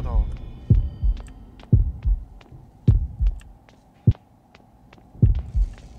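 Steady heartbeat from the horror game Horrorfield throbs in regular deep double pulses, prominent and close, with faint clicks and game noise around it.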